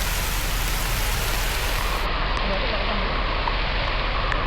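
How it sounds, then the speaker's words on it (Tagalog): Heavy rain falls as a steady, dense hiss, loud and continuous throughout with no pauses. "Lakas ang ulan."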